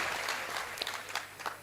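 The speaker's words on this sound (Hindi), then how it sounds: "आप लोग जरा एक बार ताली बजा के मुझे बता दो" A crowd claps at a Hindi kavi sammelan poetry recital, a brief dense patter of applause held at an even level throughout.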